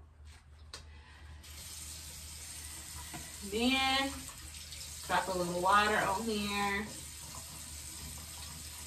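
Water runs steadily from a tap into a sink during a daily skincare routine, a constant soft hiss lasting the whole stretch while someone talks over it.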